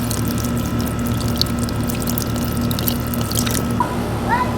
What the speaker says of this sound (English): So this is just to let some water out so it's not so heavy for me.